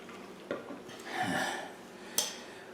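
A spoon stirs a freshly made drink: two light clinks against the glass a couple of seconds apart, with a soft swirling rub between them, faint and close.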